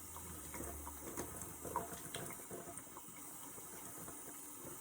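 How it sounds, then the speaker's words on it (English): Faint running water rinsing debris off a tropical plant being brought indoors, a soft continuous splash and trickle. "It does have some debris on it, so I'm just going to rinse that off"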